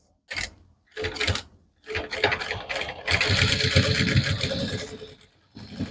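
Domestic sewing machine stitching lace trim onto a dupatta, running in several short bursts before a longer steady whirring run, close and loud with no talk.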